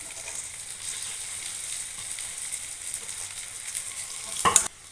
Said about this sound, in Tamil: இப்போ பீன்ஸ் கேரட் எல்லாமே நல்லா வதங்கிருச்சு